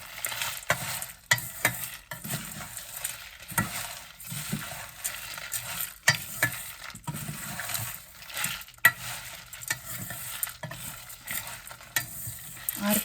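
Gram, fenugreek, coriander seeds and chilies are dry-roasted in a pan. Seeds rattle and scrape under constant stirring, giving close, uneven clicks and shuffles with a light sizzle beneath.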